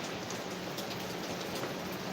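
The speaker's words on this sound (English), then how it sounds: "Well, it just started pouring outside." Heavy rain pours outside in a dense, continuous roar of drops hitting surfaces, loud and even from start to finish with no talking.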